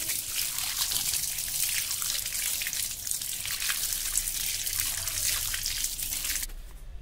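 Hands washed under running water after farm and garden work, with soil packed under the fingernails; a steady, close splashing trickle runs unbroken for several seconds, then cuts off sharply at the end.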